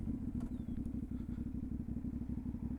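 A 450NK motorcycle's engine and exhaust while riding, heard onboard as a steady, close, low rumbling throb with fast, even firing pulses and light clatter, with no speech.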